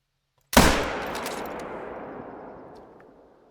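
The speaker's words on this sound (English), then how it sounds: "I think both of those shots might have hit." A single loud, close rifle shot at a moose in the hunting video game The Hunter: Call of the Wild, a sharp crack followed by a long rolling echo that fades slowly over about three seconds.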